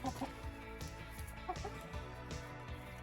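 Backyard chickens clucking while eating scraps of red potato and carrot, several birds close by with short repeated clucks over a steady background rustle.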